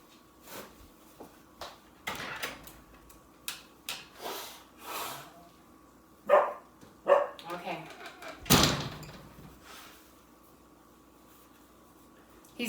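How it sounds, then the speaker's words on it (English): A dog barks outdoors in short scattered bursts, some loud and near, with a household door and drawer clatter and someone talking intermittently around it. "He's barking at some serious threat out there."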